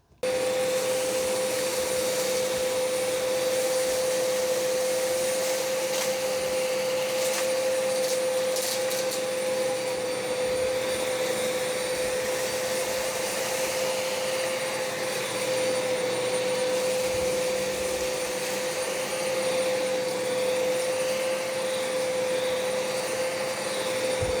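A Hoover Wind Tunnel XL Pet upright vacuum cleaner runs continuously on carpet at a higher power setting, a steady loud whine with a constant pitched tone holding for the whole stretch, no voices.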